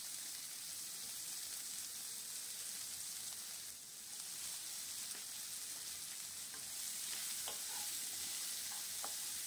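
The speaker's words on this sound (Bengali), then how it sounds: "এবার পেঁয়াজটা একটু ভাজা করে নিতে হবে, বেশি লাল লাল করে ভাজার দরকার নেই" Chopped onion frying with whole spices in a pan for a katla fish-head chorchori, giving a soft, steady sizzle and crackle that runs evenly throughout, with a few sharper pops.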